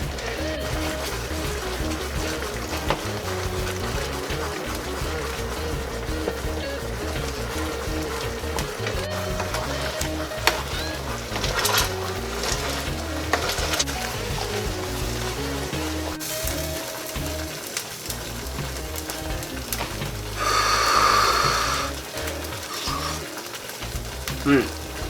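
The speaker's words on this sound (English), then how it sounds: "Come in here and use this potato masher. Kind of break up those skins" Potato masher pressing and breaking up rehydrated cranberries simmering in a pan, a steady soft sizzle and bubbling with wet mashing pushes, close and continuous, briefly louder near the end.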